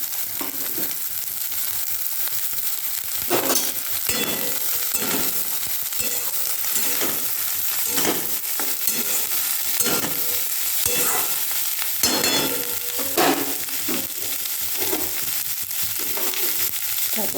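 Onion, carrot and cabbage stir-fried in a pan for fried rice made from leftover rice: a constant close sizzle broken by repeated scraping strokes of a spatula, with no talking.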